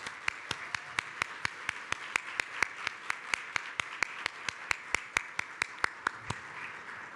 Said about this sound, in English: we'd love to give you a round of applause if you want to stand